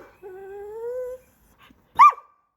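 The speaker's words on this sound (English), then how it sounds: "do you tell this dog to stop being such a whining old..." A dog whines in a garden, one long drawn-out high whimper followed by a brief sharper yelp, close and clear against near silence.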